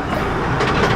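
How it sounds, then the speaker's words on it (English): A narrow-gauge mountain train in the Pyrenees runs along its rails, a steady close rumble with faint rhythmic clatter building slightly toward the end. "this train apparently is the highest narrow rail train in Europe"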